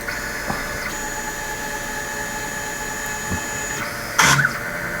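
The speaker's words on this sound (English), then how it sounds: "So I'm going to turn the motor on. Okay, the motor's running." CNC milling machine motor running while set up to mill glass, a steady close hum with a faint high whine, one brief louder mechanical burst near the end, no speech.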